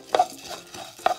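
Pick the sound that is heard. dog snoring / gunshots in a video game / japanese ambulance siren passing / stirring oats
stirring oats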